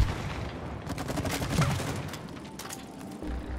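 Gun firing at a shooting range in It Takes Two, a run of quick shots at moderate level, fairly close, with a brief voice now and then.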